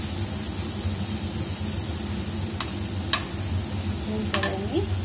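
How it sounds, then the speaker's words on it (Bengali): Spiced omelette curry in a frying pan being stirred after a pinch of sugar, a constant close sizzle with a few sharp spatula taps and scrapes near the end. "ভালোভাবে নেড়ে নেব"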